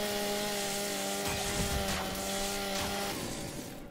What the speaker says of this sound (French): Et on va mettre un petit coup de tronçonneuse.